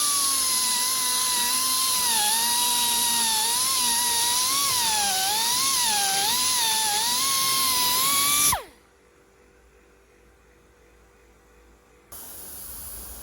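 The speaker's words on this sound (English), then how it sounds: "Just grinding the thread out of there so that this is another shaft the same will fit in." A high-speed grinder cutting the thread out of a steel shaft, a loud whining tone that wavers with pressure for about eight seconds, then cuts off to near silence before a faint hiss returns.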